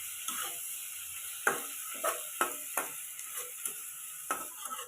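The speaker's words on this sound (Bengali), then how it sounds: "আমি আবারও হালকা নাড়িয়ে চাড়িয়ে দিব যাতে সবগুলো সবজি ভালোভাবে ভাজা হয়ে যায়।" Vegetables with salt, turmeric and cumin powder fry in a pan for a hilsa fish head dish, a steady sizzle broken by several distinct scraping stirs of a spatula at irregular intervals.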